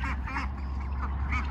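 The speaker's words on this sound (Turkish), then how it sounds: "bu vak vak diyen yavrular dişi arkadaşlar" Several young female ducklings quack repeatedly in quick, overlapping calls, close by over a low steady hum.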